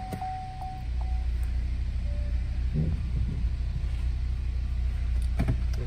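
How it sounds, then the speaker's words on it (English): 2015 GMC Terrain with the 2.4L engine idling, a steady low rumble heard close up with a faint hum on top and a few small clicks, no one talking. "engine sounds really good"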